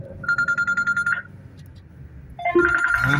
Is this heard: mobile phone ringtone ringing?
yes